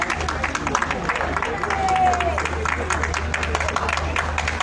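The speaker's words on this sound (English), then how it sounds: "That's certainly a good a round of applause by the ringside here." Ringside crowd at a Bath hound and utility dog show giving a steady round of applause, continuous patter of many hands with outdoor crowd murmur, fairly loud and sustained throughout.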